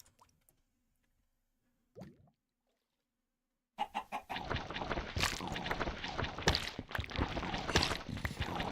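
Chickens cluck and plop in the Minecraft Skyblock video game, a brief faint sound early on followed by a loud, busy stretch of overlapping game noises.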